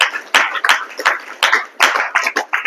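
A congregation claps hands in unison during prayer, a close, loud series of sharp, fairly regular claps with brief pauses between bursts.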